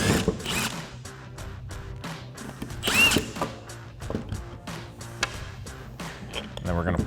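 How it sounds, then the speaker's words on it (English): A 15mm socket removes a nut on a 2015-2024 Mustang during a suspension install, heard as rapid repeated mechanical clicks and whirring bursts of a power tool, with a voice speaking alongside. "We'll take a 15mm socket to pop that off."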